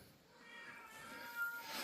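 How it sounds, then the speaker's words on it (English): Cats yowling and meowing during a fight, heard faint and somewhat distant in a garage-like setting, with a drawn-out wailing cry rising toward the end of the short stretch. "Cats are fighting."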